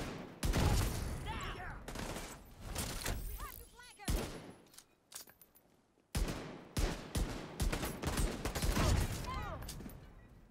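Rapid bursts of Regulus exotic pistol fire in The Division 2, loud and close, with sharp clustered shots and a brief near-silent gap midway.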